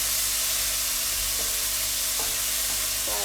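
Tomatoes and onions fry in a pan for a chicken curry, giving a steady, close sizzling hiss with faint stirring clicks and no talk.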